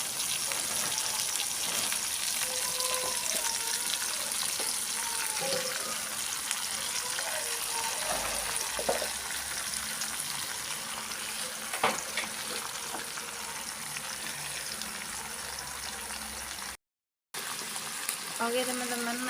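Caisim mustard greens stir-fry in a hot pan with a continuous steady sizzle and occasional scraping stirs, while a voice speaks faintly now and then.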